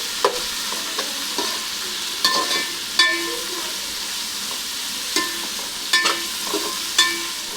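Ingredients for Telangana-style bagara chicken curry frying in a pan, a steady sizzle under repeated scraping strokes of a spoon against the metal, close and loud, no talking.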